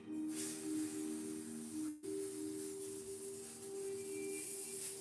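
A steady, continuous spray hisses close by over about five seconds, with a faint tonal hum underneath and one brief break partway through.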